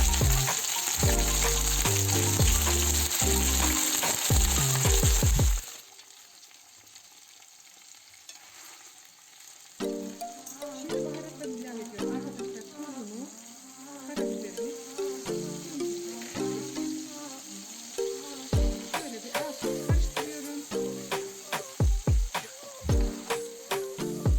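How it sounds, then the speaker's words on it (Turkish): Broccoli with added ingredients cooks in a pan over low heat under a lid, a steady crackling sizzle that is loud at first, then softer and muffled with scattered pops. "brokolimi ilave ediyorum arkadaşlar üzerine malzemelerini ilave ettikten sonra altını sık sık kapağını kapatıp pişmeye bırakıyorum"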